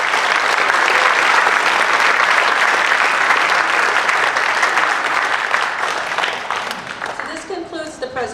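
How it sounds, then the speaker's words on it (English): Sustained, loud applause from a ceremony audience honoring twenty veterans and their families at a city veterans recognition event, continuous dense clapping that thins slightly toward the end. "Another round of applause for our 20 honorees and their families."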